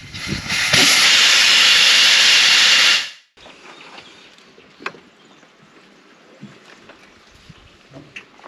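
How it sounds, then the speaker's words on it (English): A loud, forceful hiss of air blasts out of a tractor tyre for a few seconds, then cuts off abruptly, leaving quiet clanks and rustling afterward. "All the air's going to rush out now, and the tractor's supported."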